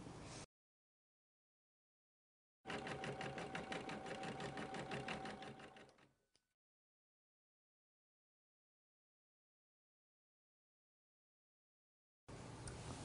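A Brother INNOV-IS combination sewing and embroidery machine stitches a bobbin work design, its needle running in a steady fast mechanical whir for about three seconds before slowing to a stop, with silence around it.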